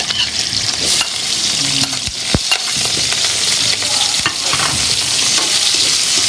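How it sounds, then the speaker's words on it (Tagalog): Shrimp stir-frying in hot oil, with a loud, constant close-up sizzle and sharp scraping knocks of a spatula against the pan. "Unahin natin yung stir fry natin itong hipon muna. Mainit na yung mantika. Stir fry natin."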